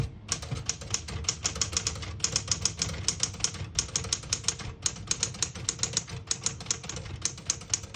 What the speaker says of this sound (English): Beautiful typing machine.